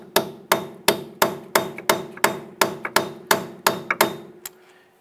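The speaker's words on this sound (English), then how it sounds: "strike the back side here using the bolt to push the hub out of the knuckle" A hammer strikes a bolt to drive the hub out of the steering knuckle on a 2002-2007 Jeep Liberty, about a dozen sharp metallic blows in a steady rhythm, loud and close, with no talk.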